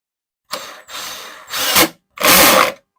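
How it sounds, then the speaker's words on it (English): A power drill whirs in three short bursts into wood, each with a rising whine, separated by brief pauses, loud and close. "I always use a drill because you don't want to blow out the"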